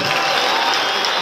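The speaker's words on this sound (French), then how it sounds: "Voilà, on applaudit aussi pour le président Kamere." A press conference audience applauds for President Kamerhe, a dense, steady patter of clapping close by that fills the short moment without pause.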